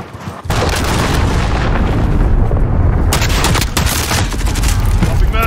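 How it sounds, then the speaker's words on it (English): An allied cruise missile strike in the military shooter Modern Warfare, heard during a multiplayer match: after a brief hush, a sustained roar of heavy booming explosions rumbles continuously for several seconds, loud and close, with a second surge near the end. "Allied cruise missile away."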